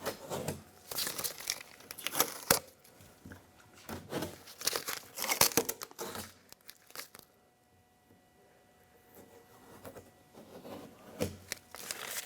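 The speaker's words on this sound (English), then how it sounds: "let's take the tape off of the window" Tape is peeled off the window of a 1996-2002 Toyota 4Runner, with close, loud crinkling and ripping bursts, a quiet pause partway through, then more crumpling.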